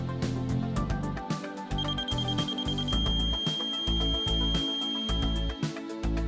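A forklift truck's active collision warning alarm at a loading dock gives out a rapid series of repeating electronic beeps in a steady, insistent rhythm, close and clear.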